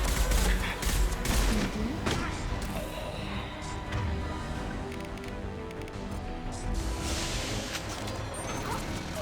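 Sustained gunfire and crashing impacts from a sci-fi firefight against heavy mechs in Mass Effect 2, dense and loud throughout with overlapping shots and debris.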